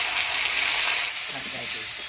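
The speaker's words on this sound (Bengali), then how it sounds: "এবার আলু আর ফুলকপিটা ভাজি নিই।" Potatoes and cauliflower sizzle in hot oil for a Bengali-style fish curry, a steady broadband frying hiss filling the whole stretch at close range with no break.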